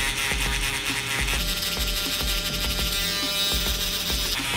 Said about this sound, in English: Make sure you go up with the razor, with the shaver.